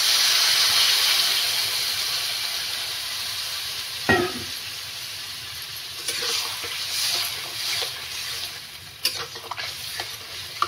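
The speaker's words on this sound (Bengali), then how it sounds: "একটু জল দিয়ে দিচ্ছি" A Bengali curry pan with chhanar bora and potato-pointed gourd hisses and steams as a little water goes in, a broad sizzling wash fading into softer bubbling, with a few sharp utensil clinks and stirring scrapes.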